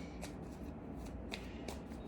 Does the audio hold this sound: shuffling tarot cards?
yes